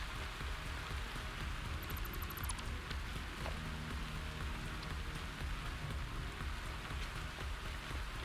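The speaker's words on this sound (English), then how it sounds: "Hey, the rain's stopping." Steady rain falls in the video game Satisfactory, a soft, even hiss of drops on surfaces that continues throughout at a low, distant level.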